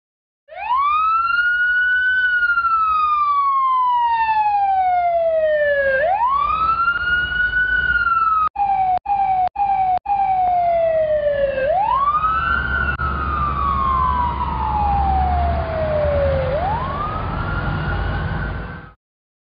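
Toy fire engine siren wailing in long rising and falling sweeps, loud and close, briefly cut by a few short clicks midway, with no voices.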